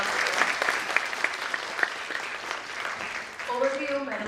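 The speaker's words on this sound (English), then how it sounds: "Please give a huge round of applause for our moderator." An audience applauds the moderator at an academic event: dense clapping for about three seconds, then it fades as a voice begins speaking near the end.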